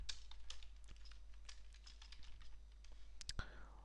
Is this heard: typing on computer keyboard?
yes